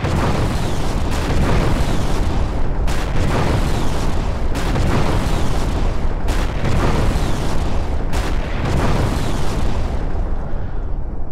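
Heavy-caliber ACF cannons in Garry's Mod chain-fire in a steady stream, a loud, dense run of booming blasts, roughly one every second or two, that rolls continuously for about eleven seconds with no talking.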